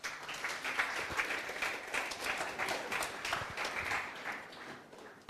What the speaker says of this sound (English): So, a big round of applause for Amita Raj.